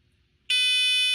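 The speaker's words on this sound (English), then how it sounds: "you hear the buzzer. So the alarm's going off" A shrill electronic alarm buzzer on a Newt smart display, a low-powered always-on screen, cuts in abruptly after a quiet moment and holds a loud, steady tone.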